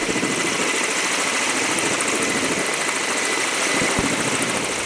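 A rescue helicopter during a mountain rescue exercise, its engine and rotor giving a steady, loud broadband roar that holds evenly throughout with no voices.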